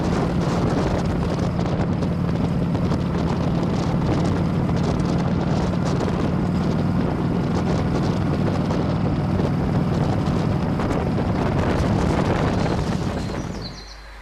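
A 2000 Indian Chief motorcycle cruising on an open road, its steady engine drone heavily mixed with loud, continuous wind rush across the microphone, fading out at the very end.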